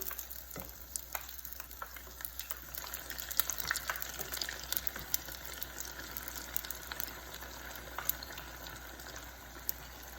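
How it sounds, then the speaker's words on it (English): Steady, crackling sizzle of cuculli, small Italian fritters, frying in hot oil, with scattered sharp pops over a continuous hiss, close by and fairly loud. "So you keep frying the little cucullis, you see, and then you turn them."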